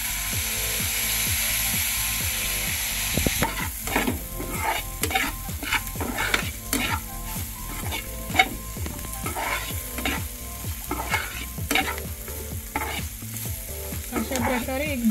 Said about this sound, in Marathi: अशा प्रकारे 1-2 मिनिट भर हे मिश्रण भाजून घ्यायचे